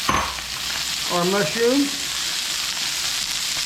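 Vegetables such as cabbage, yellow squash and mushrooms stir-frying in a hot wok, a loud continuous sizzle close by, with a person speaking briefly over it.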